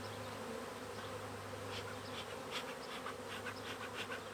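Honey bees buzz around an opened hive during a beehive inspection near the brood chamber, a dense, steady drone with individual bees flying close past, faint and continuous without any talking.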